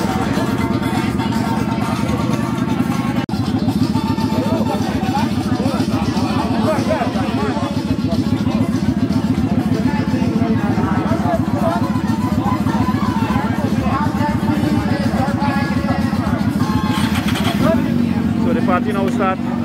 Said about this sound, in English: We have the bikers here. Beautiful bikes.